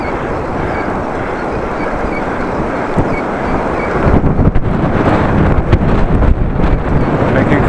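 Heavy wind buffets a motorcyclist out on the road, a loud continuous roar of rushing air across the microphone that grows rougher and gustier toward the end.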